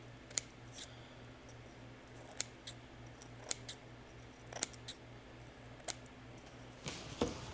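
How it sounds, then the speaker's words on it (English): Small scissors snip and trim a decoupage napkin on a Fabergé-style egg, a series of quiet, irregular crisp cuts close by over a faint steady hum. "This one I'm trimming a little bit closer than I did on the last one"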